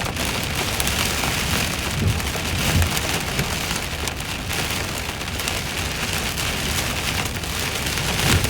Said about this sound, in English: Wow, now it's hailing. What a crazy storm.